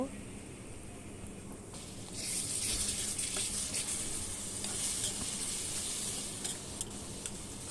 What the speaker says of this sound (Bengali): দিয়ে দিচ্ছি হলুদের গুঁড়ো পরিমাণ মতো, দিয়ে দেব মরিচের গুঁড়ো, ধনিয়া গুঁড়ো ও জিরা গুঁড়ো। মশলাটা ভালোভাবে ভেজে নেব।